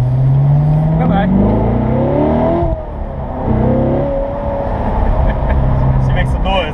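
A 2015 Corvette Stingray engine pulls hard while driving, loud and close, its pitch climbing and falling through gear changes over a steady road roar.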